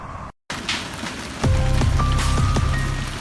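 Hail pelts parked cars in a dense, loud clatter of impacts on metal and glass, with sharp individual strikes standing out against the steady drumming.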